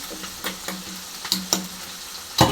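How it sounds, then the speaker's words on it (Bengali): Small chuno fish frying in oil in a home kitchen, a quiet sizzle broken by a few sharp crackles and spatters at irregular intervals, with a bigger burst of popping near the end. "চুনো মাছটাকে লাল লাল করে একটু ভেজে নিতে হবে, একদম মচমচে করে।"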